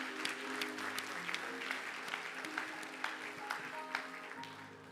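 A church congregation applauding the Lord during a service, sustained clapping from many hands filling the room, with steady musical tones held underneath throughout.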